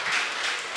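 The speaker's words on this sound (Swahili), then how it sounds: "naomba mpigie makofi mengi sana." Brief burst of audience applause at a book launch, clapping for the reviewer, a dense, even patter of many hands heard from a moderate distance with no talk over it.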